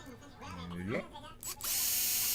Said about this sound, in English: I'm putting a screw right there at the top to keep the motor from spinning.